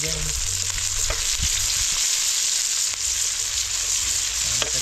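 Garlic, onion and chili frying in a pan give a steady, close sizzle with occasional stirring scrapes and clanks, continuous throughout, with no talking.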